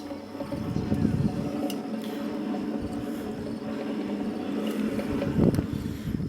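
A hand-built coal forge blower turns with a steady low rumbling whir and a faint mechanical rattle. Close and continuous, it swells slightly now and then, with no one talking.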